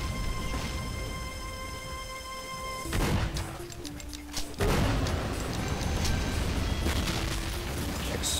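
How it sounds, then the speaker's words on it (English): Heavy booming blasts and rumbling gunfire in Doom 2 with the Beautiful Doom mod, dense and loud, with sudden bursts and a continuous roaring backdrop. "Explosions! Woo!"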